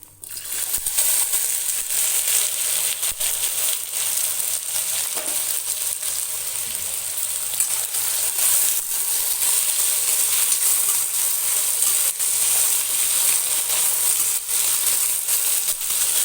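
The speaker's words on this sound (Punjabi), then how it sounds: "ਹੁਣ ਇਸ ਵਿੱਚ ਆਪਾਂ ਕੱਟੀ ਹੀ ਅਰਬੀ ਪਾ ਕੇ ਫਰਾਈ ਕਰਾਂਗੇ" Cut arbi (taro root) fries in hot oil in a Punjabi kitchen, a loud, even sizzling hiss that holds steady from start to finish, close up with no voices.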